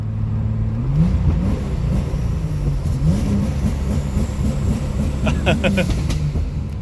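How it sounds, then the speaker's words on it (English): A Pontiac Grand Prix fitted with anti-lag revs hard under full throttle. The loud engine note climbs and drops through repeated rising sweeps, with a rapid fluttering burst near the end. "Gonna go ahead and give her full clutch and full throttle here and just see how that goes."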